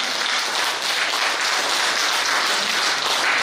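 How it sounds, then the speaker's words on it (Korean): Sustained crowd applause from an audience at a political party founding rally in Busan, steady and dense clapping for several seconds with no talk over it. "박수!"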